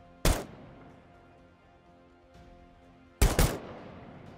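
Gunfire from a newly added weapon in the survival game SCUM, two loud single shots about three seconds apart, each ringing out with a short echoing tail against a quiet background.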